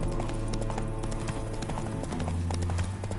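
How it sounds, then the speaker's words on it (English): Clip-clop of a horse's hooves in The Witcher 3 as the mount is spooked by ghosts, a steady rhythmic trot running throughout over a low ambient game backdrop. "Spooking my horse."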